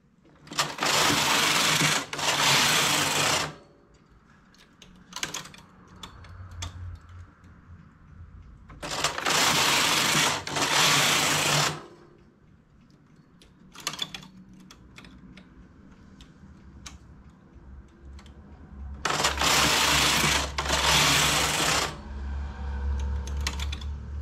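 A home knitting machine makes a sweater, its carriage racing across the needle bed in loud rasping bursts between quieter clicking stretches as stitches are decreased with a transfer tool, all close and with no voices.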